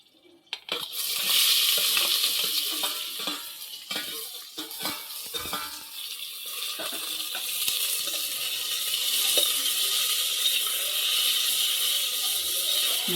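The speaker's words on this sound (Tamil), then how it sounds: "வெங்காயத்தை நல்லா வதக்கணும்." Sliced onions sizzle steadily in a hot pan for mint-coriander biryani, a constant bright crackle with occasional scrapes and stirring clatters, no voices.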